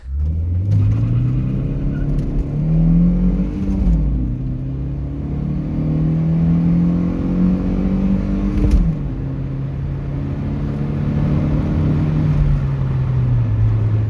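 A 1992 Volvo 940 with a 2.3-litre engine accelerates hard, the engine note climbing through the gears with brief dips at each shift, loud and close from inside the car.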